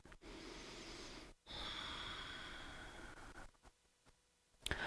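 Slow, steady breaths drawn in and let out during a gentle yoga stretch, each long airy inhale or exhale close and soft, with short quiet pauses between them.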